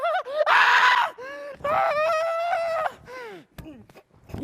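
A woman lets out loud, sustained screams on stage in a community theater performance of Clue, with several long shrieks and pitched wails rising and falling, then breaking off into quieter gasping sounds.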